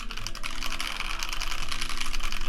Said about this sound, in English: You probably get kicked out of a cafe if you busted out a Tokyo60 and started typing.